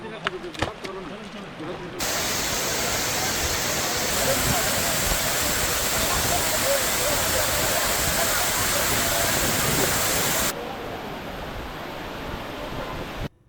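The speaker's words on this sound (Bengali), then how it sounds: "দুধ সাদা বসন্তের জল পাথরের দেওয়াল দিয়ে প্রায় দেড়শো ফুট উপর থেকে" At Dhuppani waterfall in Rangamati, water drops about 150 feet over a rock wall with a loud, steady rushing roar. Brief noises come first, and the roar settles slightly quieter toward the end.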